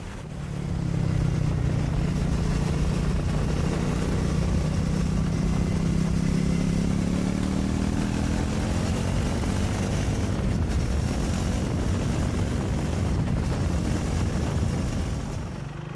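Triumph Speed 400 motorcycle riding down a dual carriageway, its engine droning steadily and loudly throughout with rising and falling tone as it accelerates, mixed with wind rush.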